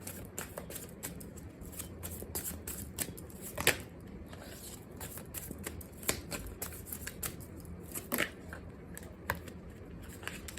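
Tarot cards are shuffled and drawn from a cleansed deck, giving soft papery riffles and flicks with sharper snaps now and then, close and quiet, with no talk.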